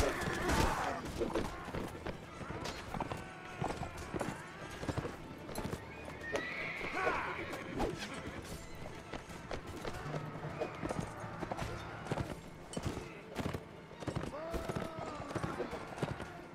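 Galloping hooves and repeated neighing from horses in a Mount & Blade: Warband battle, the hoofbeats pounding continuously while whinnies cut through, with someone talking over much of it.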